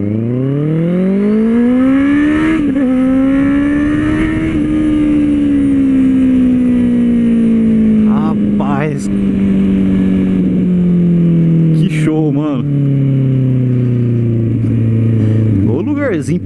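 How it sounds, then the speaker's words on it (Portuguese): A Honda CB650R motorcycle with an aftermarket exhaust idles and revs loudly up close, pitch rising then sagging, with a few sharp throttle blips cutting through the steady rumble. "se você estiver preocupado só com o ronco da moto, compensa muito"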